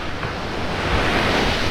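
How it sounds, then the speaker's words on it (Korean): Ocean waves roll onto a sandy beach with a loud, continuous wash of surf that swells slightly as a wave comes in. Wind buffets the microphone throughout. "이렇게 파도가 밀려올 때"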